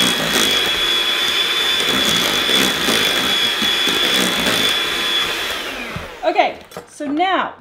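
An electric hand mixer whirs steadily while mixing garlic into homemade mashed potatoes, a loud, high-pitched whine for about six seconds that stops abruptly, followed by a person speaking briefly.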